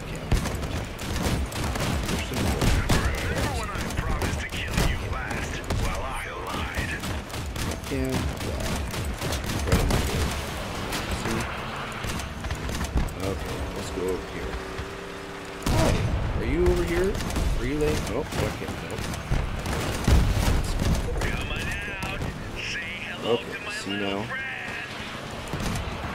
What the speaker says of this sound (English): They shoot him from all sides.